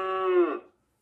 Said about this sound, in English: Did you guess that it's a cow?